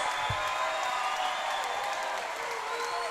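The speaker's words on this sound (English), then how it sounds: "the crowd reacts to Cody Stevens coming to the cage" Arena crowd at an RFO Big Guns MMA event cheering and applauding as fighter Cody Stevens heads to the cage, a steady distant roar of many voices with a soft thump near the start.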